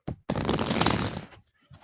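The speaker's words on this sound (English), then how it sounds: "Just one little shuffle here, and we'll get to it." A deck of cards is shuffled once in a quick riffle, close and fairly loud, lasting about a second between brief pauses, with no voices.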